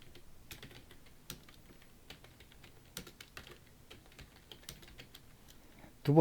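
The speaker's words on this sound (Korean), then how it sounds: "두 번째 줄을 쓰시고 나서 엔터가 아닌 시프트 엔터를 칩니다" Typing on a computer keyboard, with close, crisp key clicks arriving in uneven bursts over a quiet background and a louder thump at the very end.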